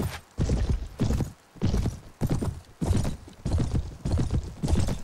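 Cavalry horses move in the medieval strategy game Anno Domini 1257, their hooves clip-clopping in a steady, loud rhythm of repeated bursts that stays close throughout.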